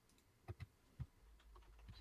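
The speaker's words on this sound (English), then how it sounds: "I'm typing it in." Quiet typing on a computer keyboard, a handful of soft, irregular key clicks spaced across two seconds, close by with no talking.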